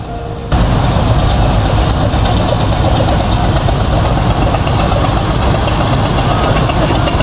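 A Brienz Rothorn Bahn steam locomotive on the Swiss mountain railway kicks in abruptly with a loud, close, steady chugging rumble that stays dense and unbroken for several seconds.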